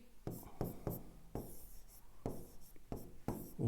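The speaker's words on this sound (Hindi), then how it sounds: "मैं एक लाइन लिख रहा हूं" Handwriting a line with a pen on paper, close and quiet, with a series of short scratchy strokes and brief pauses between words.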